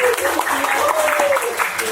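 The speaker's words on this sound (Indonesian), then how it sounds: "Tepuk tangan sekali lagi buat teman-teman semuanya" Audience applause at an arts talk show held by the Sragen Regency arts council, a steady wash of clapping lasting about two seconds, mixed with a sustained whistle-like tone and some voices.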